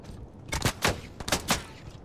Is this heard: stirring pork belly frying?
no